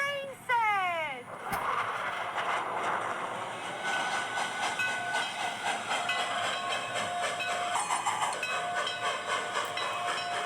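Toy train set running on its track at close range, a busy rattling and whirring with rhythmic clicks and a brief whistle-like sweep at the start, while people talk over it.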